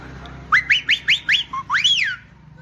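A person whistles an imitation of a koel's call: a rapid run of five or six short rising whistled notes, then a longer swooping note that rises and falls, clear and close with no other sound.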